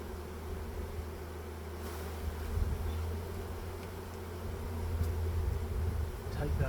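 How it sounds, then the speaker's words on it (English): A cluster of bees buzzing at the front of a thin breeding box during a removal, a steady close hum with a low drone throughout, with faint voices now and then. "These are just a cluster of bees hanging out really at the front of the thing."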